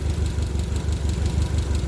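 A Triumph Spitfire engine runs steadily at idle, a close, continuous low rumble with an even pulsing beat and no talking.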